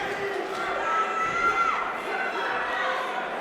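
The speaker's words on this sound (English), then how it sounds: "What a crowd and what a fight. Final round is on the way as the Rory Haigh supporters to our left roar for him." Supporters at a boxing fight, Anthony Evans versus Rory Haigh, roar and cheer in a sustained, dense crowd wash that swells slightly midway, with shouting voices blended into the din.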